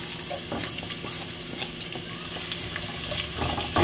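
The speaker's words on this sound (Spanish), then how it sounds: "Entonces vamos a guisar nuestra cebolla primeramente." Onion frying in a pot for black bean enfrijoladas, giving a steady close sizzle and crackle throughout with small spatters and no talk.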